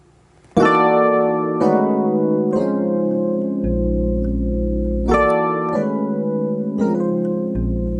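A slow gospel piano chord progression in a 3-6-2 pattern, each chord struck cleanly and left to ring, with low bass notes joining some changes; no talking.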